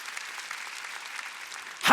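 Church congregation at a Wednesday worship service bursting into applause, with a brief loud swell of clapping at the very end after a stretch of quieter sound.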